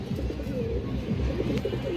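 A female Giribaj pigeon of the kajla type coos in low, continuous rolling murmurs, close and steady throughout.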